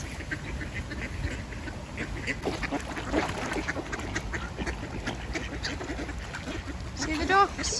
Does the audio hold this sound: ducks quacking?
yes